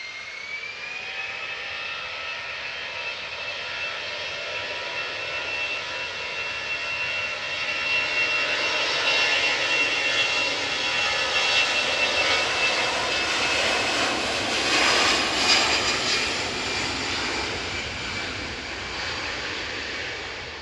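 A passenger jet roars on takeoff from Manchester Airport bound for Munich, its engines rising into a sustained, heavy rumble with a whining tone, steady and loud from a distance as it climbs.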